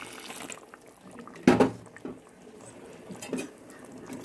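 Water poured into mutton cooking for a restaurant-style mutton biryani, with one short loud splash midway and a few fainter trickles and clinks around it in a quiet kitchen.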